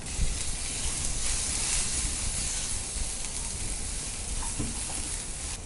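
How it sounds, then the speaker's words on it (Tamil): Butter melting in a hot pan at the start of a tomato soup, a steady dense sizzle and hiss that holds at an even level throughout, close and with no talking. "கொஞ்சம் ஃப்ளேவர் தரதுக்காக நம்ம பட்டர் ஆட் பண்ணிக்கலாம்."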